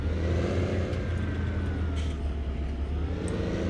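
The engine of an MTZ 3522 tractor in Farming Simulator 17 drones steadily as the machine pulls away in first gear. It is a continuous low rumble, close and even, with no voices.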